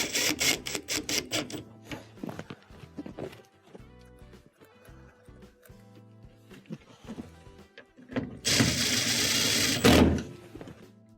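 Screws go back into the front panel of a GE washer, with scattered clicks, ratcheting whirs and metallic taps, ending in a louder burst of rattling handling noise.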